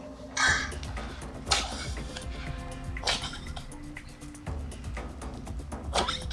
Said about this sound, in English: It's a bad cough, isn't it?